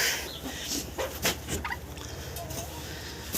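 Chickens and turkeys cluck and gobble close by in a farmyard, with scattered pecking sounds and soft background bird chatter.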